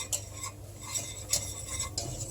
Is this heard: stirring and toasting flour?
yes